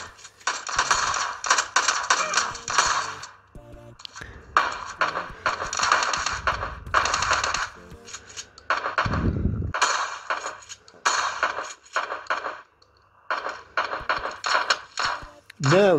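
Gunfire from an enemy in a mobile shooter game crackles in bursts of rapid, sharp reports, coming and going in clusters across the clip, with a person talking briefly in between.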